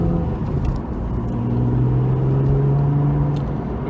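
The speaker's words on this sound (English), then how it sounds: "We've just left the workshop and the car's still warming up" A Porsche 911 drives off while still warming up, giving a low, steady engine rumble and road whir heard from inside the car, with a slight rise in tone partway through.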